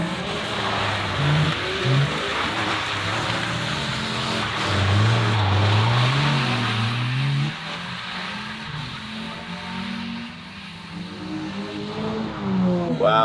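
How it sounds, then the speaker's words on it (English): Drift cars, BMWs among them, race around a track, their engines revving in repeated rising and falling surges at moderate distance over steady outdoor rumble, with one car passing louder midway. "The first cars are on the track, so we can watch how it's done."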